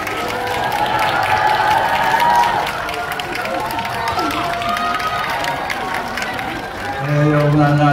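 Cinema audience at a CGV theater in Yongsan applauds and cheers as lead actors enter for a stage greeting, a dense sustained wash of clapping with crowd voices, swelling near the end.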